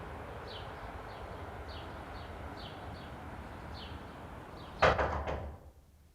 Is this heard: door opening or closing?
yes